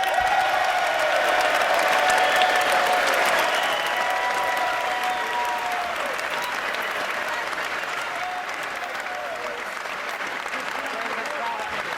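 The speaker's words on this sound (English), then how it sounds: "You listen to that applause" Sustained applause fills the chamber from a large State of the Union audience in 2019, dense and steady throughout with scattered cheers and voices mixed in, fading slightly toward the end.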